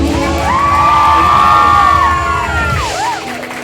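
Concert audience cheering and screaming for the lead singer, loud high-pitched shrieks and whoops from a packed crowd over a sustained roar of applause, easing off near the end.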